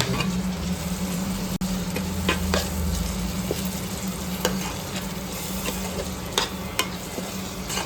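Chole masala is stirred and mixed in a pan over a continuous close sizzle and bubbling, with occasional scraping clicks of the spoon against the metal.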